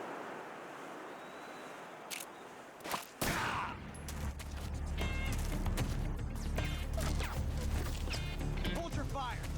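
Video game gunfire from Metal Gear Solid 3: a few sharp shots crack out, then a sustained rumbling volley with wind-like noise rolls on, while a voice speaks over it.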